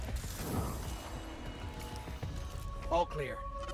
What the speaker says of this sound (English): Little tiny noises this hand cannon makes.